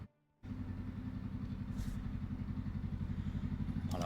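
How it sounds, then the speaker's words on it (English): A loud motorcycle engine suddenly rumbles in close by, its throbbing idle steady and slightly rising as it passes, with no talk over it. "This guy's showing up with his fucking loud ass motorcycle."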